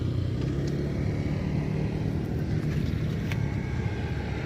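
A street-racing Yamaha Vixion motorcycle fitted with a Cobra exhaust, running with a steady, loud, deep engine rumble close by and no clear rises in pitch, with no talking.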